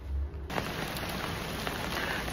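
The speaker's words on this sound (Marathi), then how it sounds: "बघा किती पाऊस आहे" Heavy rain pouring steadily as a dense, loud hiss that starts abruptly and continues without a break, with no voices.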